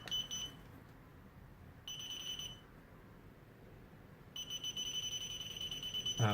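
An electrical test probe beeps in faint, high-pitched bursts as it faults, cutting in and out over a soft background hiss.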